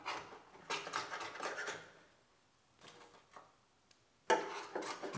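Scraping of thick seam sealer and undercoating from a car body near the pillar and rocker panel, heard as close, rough rasping strokes in three bursts separated by quiet gaps.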